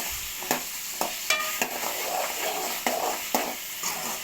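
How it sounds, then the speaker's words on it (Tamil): Tomato thokku fries thickly in oil in a pan, giving a continuous sizzling hiss broken by regular scraping strokes of a spoon as it is stirred close up. No voices. "அதை நல்லா ஃப்ரை பண்ணி வச்சுக்கோமா"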